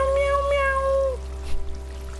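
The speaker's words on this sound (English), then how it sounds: "I thought I just heard it saying meow, meow, meow, meow." A drawn-out, wavering meow from the cat in the video game Stray, lasting about a second over a steady low background drone, followed by soft rustling noises.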